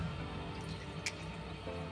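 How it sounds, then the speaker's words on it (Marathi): Water is poured into a pan of cooking spinach, giving a soft, steady splashing wash with a brief brighter splash midway, fairly faint and with no talk. "थोडं पाणी घालून घ्यायचं."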